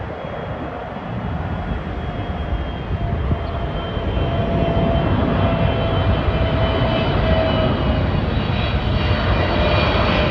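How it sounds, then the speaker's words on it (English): A Turkish Airlines Boeing 777 from Istanbul passes low overhead in a loud, continuous jet roar. The roar swells steadily and fills the clip. "And here comes Turkish Airlines, 777 from Istanbul. Gonna be flying right over me."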